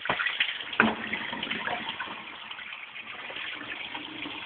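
Tap water runs in a steady, splashing hiss from start to finish, with no talking.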